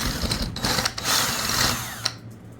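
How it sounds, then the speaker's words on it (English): A rapid, buzzing power drill motor drones continuously at close range, rising and falling slightly as it bores holes into a plaster ceiling, with a brief click near the end. "So we're going to drill the holes in the ceiling."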